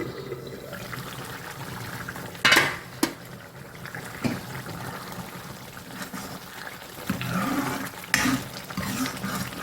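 A metal lid lifted off a cooking pot holding a chickpea flour and curd gravy, giving a couple of sharp clanks and scrapes against steady background kitchen noise.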